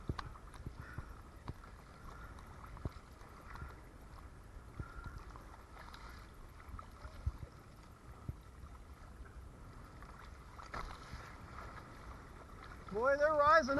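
Small boats running through ocean waves off Blackbeard Island, a soft wash of water and wind with scattered slaps, faint throughout and rising louder at the end.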